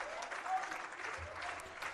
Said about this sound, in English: Crowd on their feet clapping for the Eagles as they are on the verge of a nice win here at home.